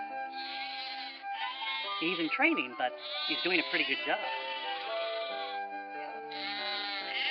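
Sheep bleat loudly and repeatedly, close by, their wavering cries overlapping as a person speaks over them.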